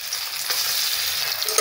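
Grated potato drops into hot ghee for aloo halwa, crackling in a loud, dense, continuous sizzle close up, with a sharper burst at the very end.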